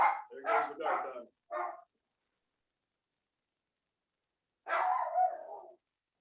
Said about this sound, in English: There goes the guard dog.